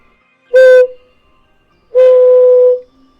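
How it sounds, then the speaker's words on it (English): A handmade ceramic whistle gives two loud, close, steady toots, a short one and then a longer held note, with silence around them. "this shit's a whistle"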